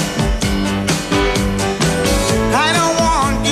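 A song used as a TV theme: full band playing with piano, bass and drums at a lively steady beat, loud and dense, with a sung vocal line entering toward the end.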